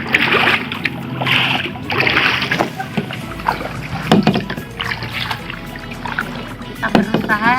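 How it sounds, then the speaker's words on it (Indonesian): A rowboat is paddled on the water at Sendang Silowo, with intermittent splashing and sloshing strokes under people talking. "Kita berusaha untuk mendayung."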